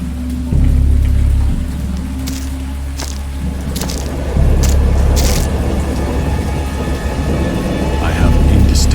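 A violent thunderstorm in the Dagon video game: steady heavy rain roars throughout while deep rolling thunder swells in repeated waves, loud and enveloping with no voices.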